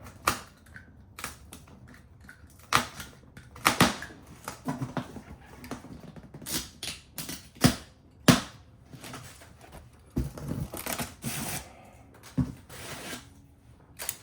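Cardboard packaging for a large Spoon Sports car-part box being opened, with scattered sharp taps, rustles and tearing bursts close by and no talking.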